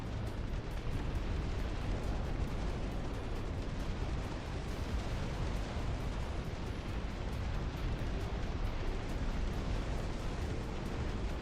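Heavy bombs detonate in the real-time strategy game Dust Front, producing a loud, unbroken wall of rumbling blasts that roll on without pause.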